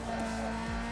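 Nissan 240SX in Need for Speed Underground 2 with turbo sounds, a steady tuned engine drone throughout a brief moment, loud and continuous with a short sliding pitch shift near the end.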